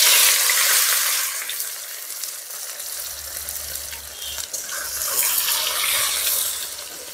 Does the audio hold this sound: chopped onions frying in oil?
yes